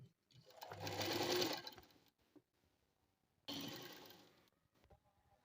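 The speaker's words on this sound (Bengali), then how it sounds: "এবারে কোমরের পট্টিটা দেবো।" Sewing machine running in two bursts while stitching the waistband onto a ladies' pant, a steady close whir for over a second, a short pause with faint handling, then a second run, with no talk.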